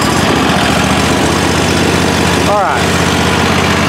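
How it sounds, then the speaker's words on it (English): The Bad Boy ZT Elite riding mower's engine idles at its lowest setting with the choke on, a loud, steady, close rumble running throughout, with a brief spoken phrase over it. "I'll show you how loud this mower is right now. It's at its lowest idle setting"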